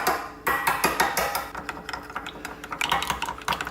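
Eggs being beaten in a bowl with chopsticks: quick, rapid clicking and tapping against the bowl in an uneven rhythm, close and crisp, with no voices.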